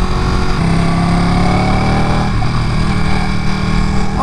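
A Ducati Panigale motorcycle engine on a night ride, a loud steady droning hum with a slight rise in pitch, sustained and close throughout.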